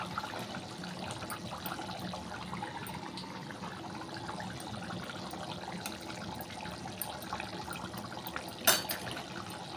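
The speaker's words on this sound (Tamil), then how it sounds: "குழம்பு வந்து நல்லா கொதிச்சு வந்துருச்சு பாருங்கள்" Sundakkai kuzhambu, a Tamil curry, simmers and bubbles in a pot, giving a faint, continuous liquid burble with a brief louder splash or clink near the end.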